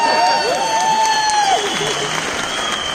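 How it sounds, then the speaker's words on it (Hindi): Applause from an audience at a celebration event fills the moment, a dense wash of clapping with a whistling tone and voices overlaid. "ताली बजाओ।"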